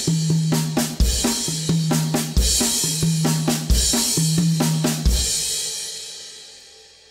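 Repeating paradiddle-diddle drum fills: a crash cymbal on each first note, the remaining right-hand strokes on toms, and bass drum underneath, cycling steadily in a driving rhythm before ringing out at the end.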